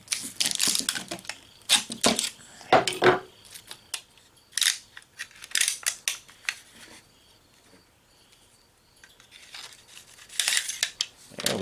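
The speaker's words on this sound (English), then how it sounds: "let's get Ron's knife out of the foil" Foil crinkling and tearing as a freshly quenched, oiled knife is unwrapped, in bursts of close crackling rustle separated by brief quiet pauses.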